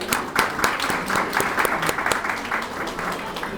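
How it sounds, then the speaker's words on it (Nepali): An audience claps at a church anniversary celebration for Nepal's first woman pastor, a dense, even burst of applause lasting a few seconds, with a voice faintly underneath. "उहाँलाई हामी उहाँ र दुईजनाले फेरि ताली बजाएर हामी स्वागत गरौँ"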